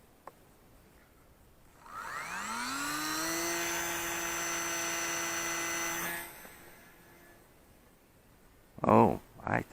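The electric motor of a Dancing Wings Hobby E31 J3 FireBird RC plane with a 600mm wingspan spools up into a rising whine, then holds a steady, buzzing drone for about four seconds before cutting off abruptly. A brief voice follows.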